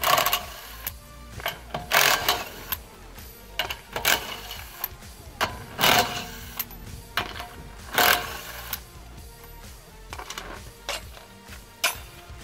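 A quick power tool spins off the wheel bolts of a 2008 Toyota Corolla raised in the air, with short loud bursts and metallic clinks of bolts and tool, separated by quieter pauses.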